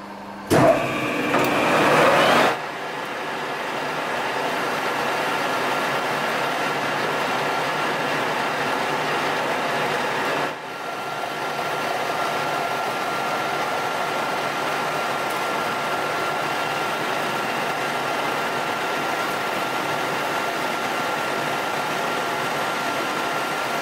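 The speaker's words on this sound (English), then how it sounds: "I'll try and cut this ball on the milling machine." A milling machine with a dividing head cutting a metal ball gives a steady, even mechanical drone that runs almost the whole clip after a brief louder burst at the start, with no talk.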